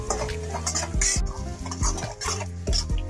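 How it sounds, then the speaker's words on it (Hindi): Semolina roasting in ghee over low heat, stirred with a spoon: rhythmic scraping and light knocks against the pan over a faint sizzle, close and fairly loud. "घी गर्म हो जाए तो आंच को करेंगे कम और उसमें डालेंगे 1/4 कप सूजी और इसे भूनेंगे"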